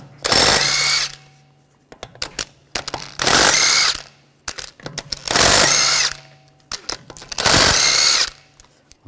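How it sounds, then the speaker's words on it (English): A power tool fitted with a 17 mm socket spins lug bolts out of a 2009-2013 BMW 328i wheel in four loud whirring bursts, separated by metallic clinks and handling noises. "We're going to remove the wheel, use a 17 millimeter socket, take the lug studs out."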